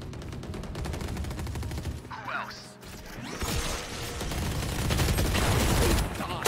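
Valorant gunfire crackles in rapid bursts, with dense automatic fire and scattered single shots amid game effects.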